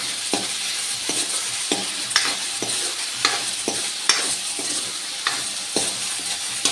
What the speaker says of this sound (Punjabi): ਪਿਆਜ਼ਾਂ ਨੂੰ ਵੀ ਆਪਾਂ ਲਗਾਤਾਰ ਚਲਾਉਂਦੇ ਰਹਾਂਗੇ